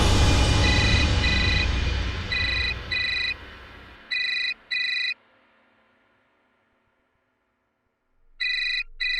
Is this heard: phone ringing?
yes